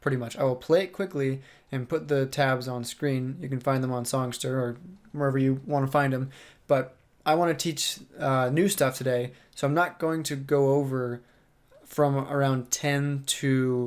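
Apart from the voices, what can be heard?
No everyday noise stands out behind the speech.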